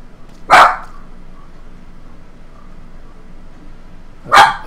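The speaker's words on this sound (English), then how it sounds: "That's my dog barking." A small dog barks twice at home, two sharp, loud, close barks separated by a few seconds of quiet.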